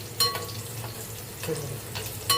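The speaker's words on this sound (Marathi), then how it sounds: "असं छान लसूण परतायचं" Garlic frying in a pan until golden for a rainy-season fish dish, a soft steady sizzle with a few sharp scraping stirs of a spoon against the pan, close and alone without talk.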